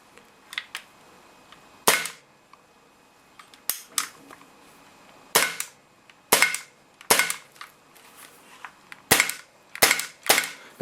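Sig Sauer P226 CO2 .177 pellet pistol dry-firing without its magazine: a series of sharp, close snapping clicks with mechanical clacks between them, irregularly spaced and alone without speech.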